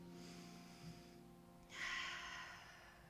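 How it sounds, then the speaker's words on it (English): A single deep inhale taken through the nose, a brief airy rush rising in the second half over a faint steady hum, close and soft, with no talking. "Big breath, everybody."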